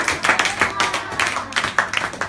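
Congregation clapping hands together at a church Bible service, irregular bursts of claps close by, mixed with voices talking and calling out.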